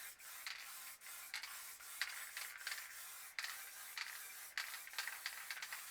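A spray paint can sprays black paint to shade a planet in spray paint art, a close, soft hissing that runs in several bursts of about a second each, separated by short pauses.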